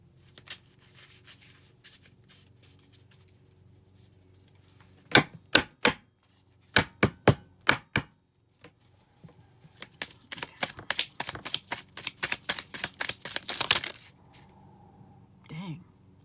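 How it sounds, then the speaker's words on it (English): A deck of cards is shuffled up close: short riffles in quick bursts, a pause, then a longer rapid riffle that ends in a soft tap. "want to give this deck another really good shuffle before we get into it"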